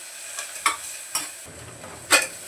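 Onion frying in a pan with cumin and curry leaves for a dal: a soft, continuous sizzle broken by a few sharp scraping stirs, close and quiet, with no voices.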